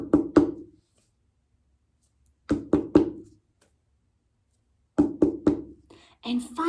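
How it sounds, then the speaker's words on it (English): Knocking on a door in three separate bursts, each two or three quick, close knocks with pauses of silence between, and a voice begins speaking at the end. "but Peter kept on knocking"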